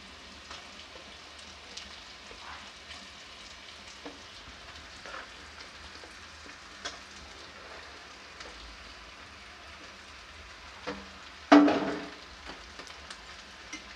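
Mashed potatoes fry in spiced masala in a pan, a soft, close crackling sizzle with scattered light pops and one louder burst of spattering near the end.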